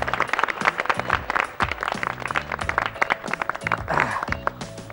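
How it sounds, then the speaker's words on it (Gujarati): A studio audience on the Gujarati game show Daily Bonus applauds in a steady, even wash of clapping for about five seconds, mixed with loud show music playing over it. "હા જોરદાર તાળીઓ થઈ જાય ફરી એકવાર એમના માટે."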